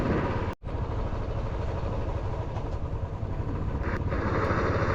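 Motorcycle engine running steadily on a Kashmir road, a close, continuous rumble with wind noise and one brief dropout near the start.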